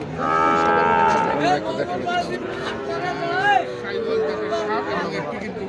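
Gir and Sahiwal cattle low loudly at a livestock market, one long drawn-out moo followed by a shorter one, over a busy murmur of people chatting nearby.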